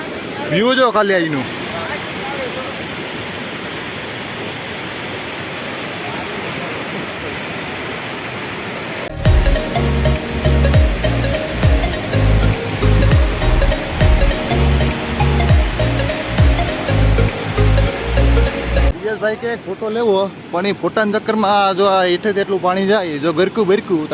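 Rushing water pours in a steady roaring wash throughout, with a person talking over it and rhythmic music coming in across the middle stretch.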